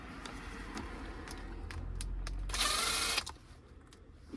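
A ratchet turning screws out of a car interior during a clock spring replacement, faint clicking mechanism sounds with a brief louder whirring burst near the middle, heard close with no talking.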